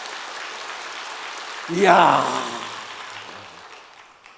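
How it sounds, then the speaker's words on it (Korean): Church congregation at a New Year revival service clapping loudly, a sustained wash of applause with a voice briefly exclaiming over it midway before it fades down. "네, 박수 한번 크게 치세요."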